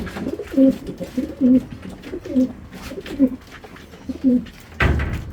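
Racing pigeons at a loft coo in a steady repeated rhythm, several low throaty calls close by, ending in a brief burst of broadband noise.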